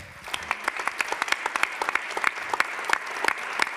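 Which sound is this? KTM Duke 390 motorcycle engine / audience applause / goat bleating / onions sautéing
audience applause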